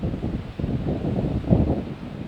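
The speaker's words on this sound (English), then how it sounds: "The wind was gusting at Pleasant Park Mobile Home Court Monday." Wind gusts across Pleasant Park Mobile Home Court in Montana, buffeting the microphone with a loud, continuous rumbling roar that swells slightly midway, with no speech.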